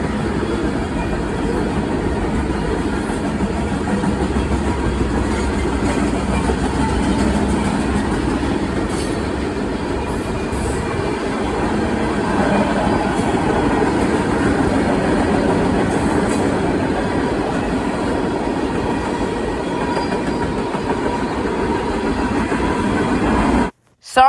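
A train rolls past at night in Chesterton, Indiana, as a long, steady roar of railcars with clickety-clack wheel noise and faint squeals. It stays loud and close for over twenty seconds before cutting off abruptly.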